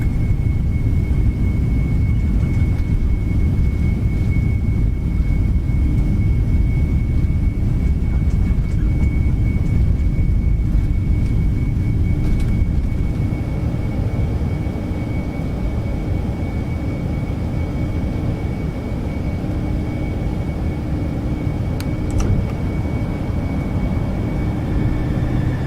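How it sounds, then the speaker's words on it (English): An airliner in the X-Plane 11 flight simulator makes a long takeoff roll out of Orlando. A steady, loud, low jet roar holds for the whole stretch, with a faint high whine above it and no voices. "Whew, long takeoff roll today."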